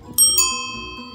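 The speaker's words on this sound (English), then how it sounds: "That bell also came off Jenny's bicycle in England" An English bicycle bell gives two quick bright dings close by, each ringing on with a clear metallic tone that fades slowly.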